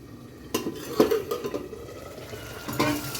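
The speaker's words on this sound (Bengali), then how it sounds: "এবার আমি ঢাকনাটা তুলব" A lid lifts off a pot of shrimp, potato and ridge gourd curry, giving a few light metallic clinks and scrapes near the microphone, with a faint cooking hiss underneath.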